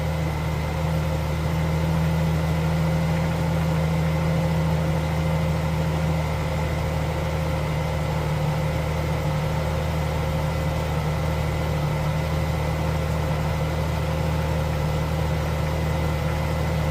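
A 1999 Jeep XJ with a 4.0L engine and a knock idles steadily and close, giving a continuous low hum with no voices.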